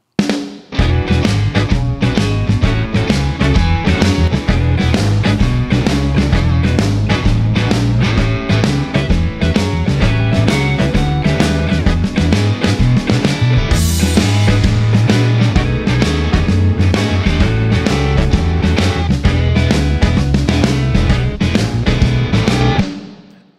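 A Connor Denis sampled drum kit plays a dense, loud groove for about twenty seconds, with punchy kicks, snares and cymbals in a continuous pattern and no talking.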